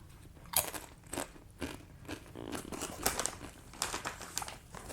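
Potato crisps are crunched and chewed up close, with crackly bites and crinkling of the crisps coming in irregular bursts, quiet and intimate, with no talking.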